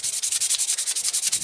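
Steady back-and-forth rubbing of 220-grit sandpaper on a budget-built knife blade during final finish sanding, about a dozen even rhythmic strokes close up, with no voices.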